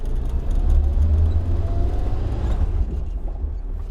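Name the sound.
Suzuki SJ 4x4 engine climbing uphill in low gear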